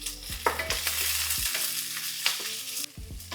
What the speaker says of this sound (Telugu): ఇవన్నీ కాస్త కచ్చా పచ్చాగా వేయించుకోవాలి.